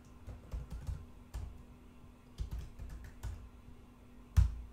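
A password being typed on a computer keyboard: a run of quiet, close key clicks in an irregular rhythm, ending with one sharper, heavier keystroke, in a quiet room.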